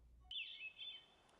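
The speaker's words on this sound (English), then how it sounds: "it's the song of the hermit thrush" A single clear, high bird phrase from a hermit thrush, one sustained whistled note with quick flourishes, fairly faint against a quiet background.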